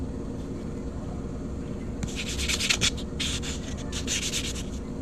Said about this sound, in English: I got that one sanded.